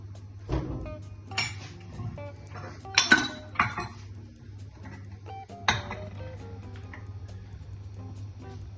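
Dishes and cutlery clink in a kitchen during a search for a plate: a handful of sharp, close knocks and clatters scattered over a steady low hum, with no talking.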